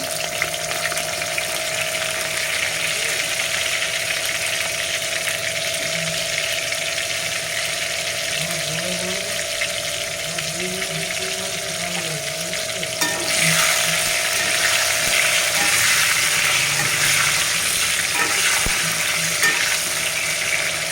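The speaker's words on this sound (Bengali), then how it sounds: "পটলগুলো এখন ভাজা হোক।" Pieces of pointed gourd (potol) fry in a pan with salt, giving a steady, even sizzle throughout with a few soft stirring scrapes in the middle and no talking.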